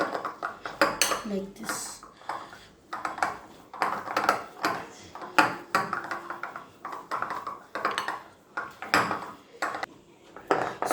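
Potato pancake dough being stirred in a bowl, with repeated clinks and scrapes of a utensil against the dish, close and moderately loud, while someone speaks throughout.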